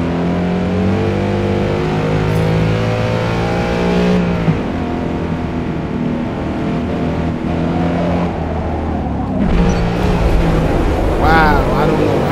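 Race car engine in Forza Motorsport at Grand Oak Raceway Club Circuit, loud and close, holding high revs with shifting pitch as it accelerates, dipping briefly before climbing again; a voice talks over it.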